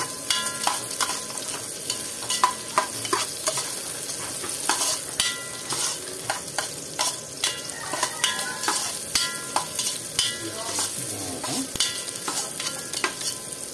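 Onions fry and get stirred in a hot pan while cooking native chicken tinola, a continuous sizzle punctuated by regular scraping and clattering strokes of the spoon, close and fairly loud with no talk.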